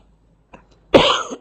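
A single short cough during a physics lesson on electric current: a faint throat sound, then one loud, harsh burst that lasts about half a second, heard alone with no talk.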